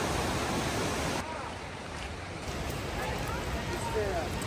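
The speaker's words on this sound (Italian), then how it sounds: "Siamo così vicini alla cascata che addirittura arrivano gli schizzi." Close roar of a waterfall in Yosemite National Park in winter, with spray drifting overhead, a loud broadband rush that drops briefly and then swells again while people talk over it.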